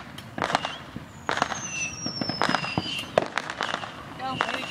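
A Hornet firework goes off at a Fourth of July celebration, throwing a rapid scatter of sharp crackling pops and rising whistles over several seconds, with excited voices around it.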